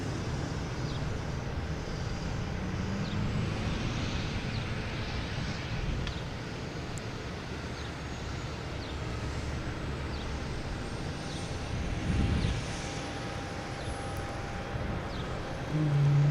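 At Logan Airport, a JetBlue Airbus A220 jet taxis out, heard as a faint, distant and steady engine rumble mixed with airport ambience, swelling slightly near the end.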